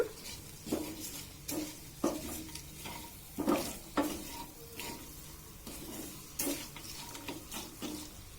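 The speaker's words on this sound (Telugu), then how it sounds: "అన్నంతో కలుపుకొని ఉప్పు వేసుకోవాలన్నమాట" Cooked rice is stirred with salt in a pan for wood apple pulihora, giving rhythmic scraping strokes about once a second over a faint, quiet sizzle.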